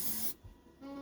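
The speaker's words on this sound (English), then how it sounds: "I just take this density toner and spray it in order to make more darker" A short, bright hiss of an aerosol density toner spray burst onto a flash stamp, then a pause and a second spray starting near the end, close and fairly loud.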